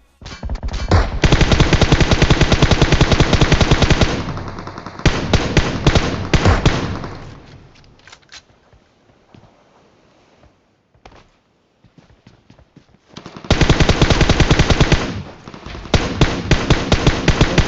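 Automatic gunfire in the mobile battle-royale game PUBG Mobile: long, loud, continuous bursts of rapid shots, then a quieter stretch with scattered faint shots, then heavy sustained firing again.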